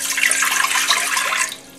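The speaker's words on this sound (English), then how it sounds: "I'm going to start by pouring 2 cups of water into" Two cups of water poured into a big pot while making grapefruit jam, giving a loud, bright, continuous splashing gush that tapers off at the end, with no voices.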